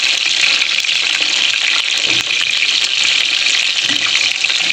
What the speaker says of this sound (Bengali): আমার ভাজা হয়ে গেছে, পকোড়াগুলো তুলে নেবো